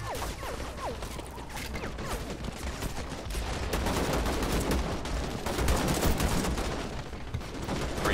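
Continuous battlefield gunfire from the Call to Arms multiplayer game, in a mid-game firefight: dense overlapping rifle and machine-gun bursts with scattered louder shots, sustained and fairly close throughout with no talking.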